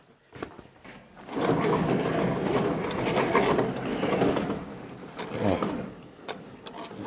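A bedroom window is slid open by hand, a few seconds of scraping, rattling frame and clicking latch mechanism, close and moderately loud, followed by a faint rush of wind.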